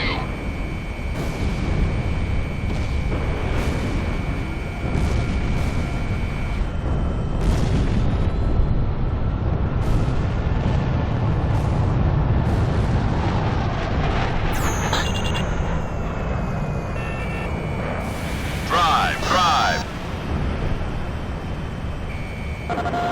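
Jet combat in Ace Combat 6 brings a long stretch of missile blasts and rumbling explosions, with repeated sharp bangs and heavy roaring, loud and dense, as radio voices talk over the action.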